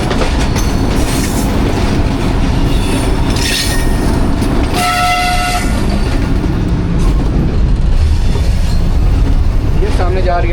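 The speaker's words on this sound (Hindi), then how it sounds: "तो ये जनाब हम गुज़र रहे हैं डायमंड क्रॉसिंग के ऊपर से" From aboard the Millat Express on the Lala Musa to Khanewal run, a loud, steady rumble of train wheels and carriages passes over a diamond crossing, with a brief metallic squeal midway and scattered clanks under speech.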